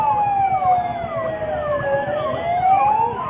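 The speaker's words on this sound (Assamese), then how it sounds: "আজি সন্ধিয়া বিপদ সংকেত বাজিব" A mock-drill emergency warning siren wails loud and steady, its pitch sweeping up and down in repeated slow cycles with no talk over it.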